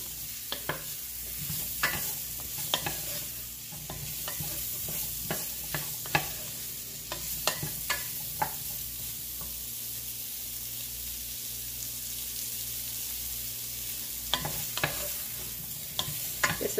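Irish fish chowder ingredients cook in a pot, giving a steady sizzle under repeated scraping stirs, near and moderately loud throughout.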